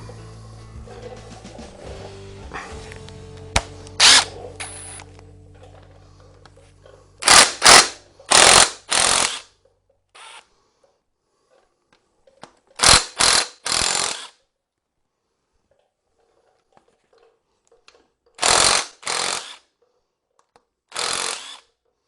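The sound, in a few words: impact wrench on a Morris Minor conrod big end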